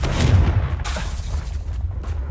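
A Confringo spell explosion in Hogwarts Legacy, a deep booming blast near the start that rumbles and fades into low, dense battle noise.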